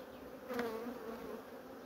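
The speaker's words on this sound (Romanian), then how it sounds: "Multă albinuță." Honeybees hum around an opened hive frame in an apiary hit by varroa mites, a faint, steady, close buzz with wings briefly droning louder.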